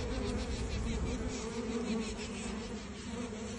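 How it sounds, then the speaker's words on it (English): A queen bee pipes inside a buzzing hive, a steady dense insect drone holding loud and close throughout with faint tonal lines above. "the sound you're about to hear is called piping, and that's the queen yelling to stop"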